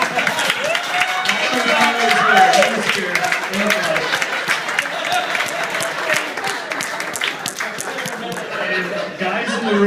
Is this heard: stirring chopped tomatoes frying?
no